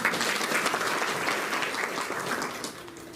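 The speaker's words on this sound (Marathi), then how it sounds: "आमच्या सिस्टर ताई आणि तुम्हा सर्वांसाठी पण जोरदार टाळ्या" A crowd at a community workshop meeting claps warmly and continuously, the broad wash of many hands holding steady before easing off slightly toward the end.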